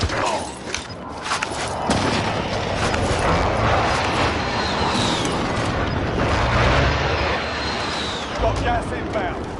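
Airstrike explosions in Call of Duty Warzone roll out as dense, rumbling booms and crackling blasts that continue without a break, with voices talking over the noise.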